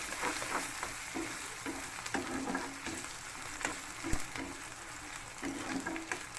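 Grated ginger and curry leaves frying in hot oil in a pan with golden-browned onions for ginger chicken, a steady close sizzle with occasional stirring scrapes and spatters and no voices.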